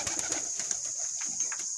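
A breeding teddy pigeon of imported bloodline coos nearby in a series of soft, pulsing low calls, repeated steadily and quiet throughout, with no talking.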